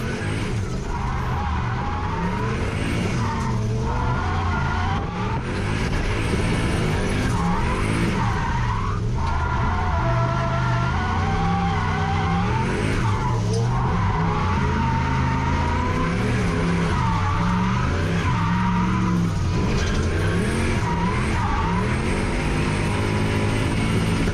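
Turbocharged 1UZ Lexus LS400 drifting at a track day: sustained loud tire squeal and skidding over a roaring, revving V8 engine, continuous throughout with rises and dips as the car slides through corners.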